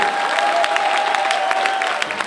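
At the 20th African Awards ceremony, the audience applauds a Crystal Globe nominee, dense crowd clapping heard steadily against a continuous tone from the hall's sound system.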